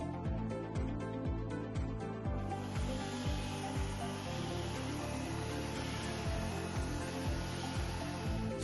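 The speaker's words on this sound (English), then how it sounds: "This is a flap sanding wheel I purchased from Woodcraft. It did a really good job sanding and smoothing out the bark side of the legs." A flap sanding wheel works over the bark side of wooden table legs, a steady close abrasive rasp with rhythmic pulses and strokes throughout.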